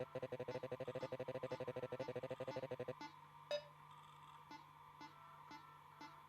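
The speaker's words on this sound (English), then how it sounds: "Please turn your volume up to hear the beeps" Calibration beeps in the rhythm game Rhythm Doctor: a fast, steady train of evenly spaced electronic tones for three seconds, then a few sparser single beeps over a low hum, quiet and with no talking.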